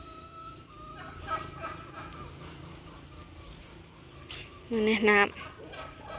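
Chickens cluck and call in a coop beside a rice field. A short louder cackle stands out near the end over faint rural background noise and soft speech.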